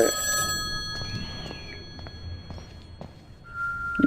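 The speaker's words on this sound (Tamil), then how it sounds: "எங்க ஃபோன் அடிக்குதுங்க அதான் எங்கே அடிக்குதுன்னு தெரில" A telephone rings in the horror video game Eyes, its electronic ring tones repeating against faint game ambience and occasional thuds, growing louder at the very end.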